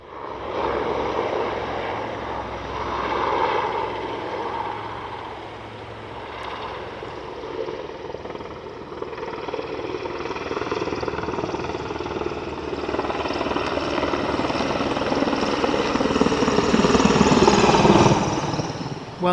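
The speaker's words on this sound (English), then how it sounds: "Apologies for the helicopters going over." Military helicopters flying over Hamworthy Lake in Poole give a broad, steady engine and rotor roar that swells slightly louder toward the end, continuous and moderately distant outdoors.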